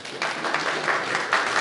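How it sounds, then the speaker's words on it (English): An audience bursts into applause, with a brief, dense burst of clapping heard from a short distance. "Give a big round of applause for that one"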